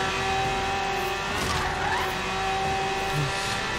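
A race car at full throttle, above 400, in the Forza Horizon 3 video game gives a loud, sustained high-pitched engine whine with a steady tonal drone and faint tire noise, with no talking.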